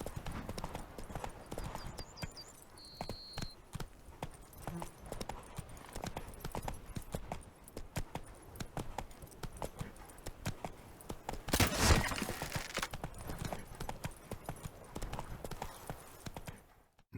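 Roach, Geralt's horse in The Witcher 3 video game, gallops with a fast, steady clatter of hooves that runs the whole time, joined by a short bird-like chirp early on and a louder rustling burst partway through.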